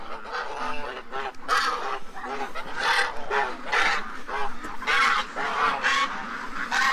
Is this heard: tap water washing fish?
no